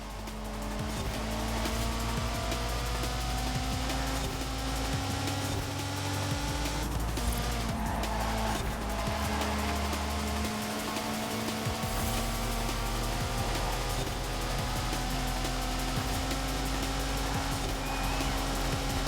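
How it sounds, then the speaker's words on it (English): Lego cars race in a Lego racing video game, their engines droning with shifting tones throughout, joined by occasional tire squeals and skids. "I'm glad they didn't go with, like, El Cheapo engine sounds for the Lego cars"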